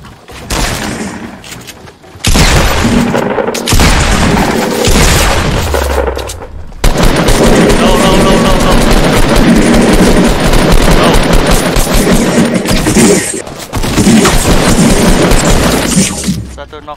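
Dense, loud gunfire fills a Fortnite battle royale match, with long automatic bursts broken by brief pauses and someone talking over the shooting.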